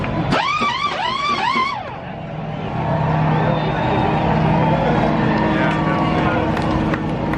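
A field of NASCAR stock cars rolls past at Talladega during a race start, with a loud, continuous engine roar that swells and holds, while a person cheers and talks excitedly over the noise.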